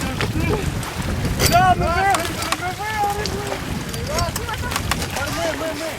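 A team paddles a raft down the Dniester river, oars splashing and churning water amid wind buffeting the microphone, while people shout and call out together over the paddling.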